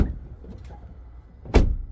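Door of a 2014 Volkswagen Golf GTI under rebuild, with damage to the door, opening in a garage; a soft mechanical creak and rustle leads to a single sharp clunk near the end.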